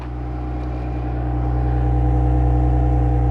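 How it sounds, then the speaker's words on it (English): A 2025 Ram Rebel pickup with a 6-cylinder engine runs steadily from behind the truck near its exhaust, a low droning hum that swells gradually louder over a few seconds, with no talking. "So let's do a little exhaust sound for you. Let me start it back up."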